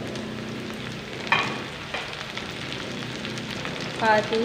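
Eggs and onions sizzling in a pan as tomatoes are added, a steady close frying hiss with a few brief clinks and a voice speaking faintly over it.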